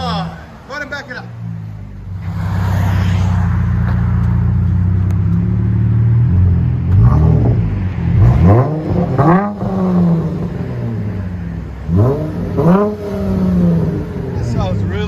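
A Dodge Charger 3.6L V6 with Vibrant bottle resonators idles with a low exhaust rumble, then gives several sharp, deep revs rising and falling close by, with someone talking over parts of it.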